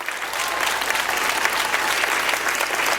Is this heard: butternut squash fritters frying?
no